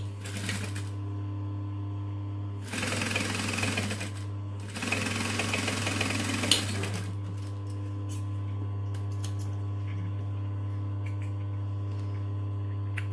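A sewing machine basting a pocket piece onto a clutch runs in two quick bursts of rapid stitching, then falls quiet over a constant electrical hum.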